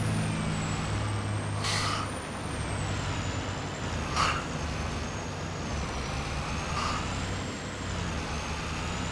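A truck in a farming video game idles with a steady low engine drone, broken by three short hissing bursts of air brake release spaced a couple of seconds apart, with no talking.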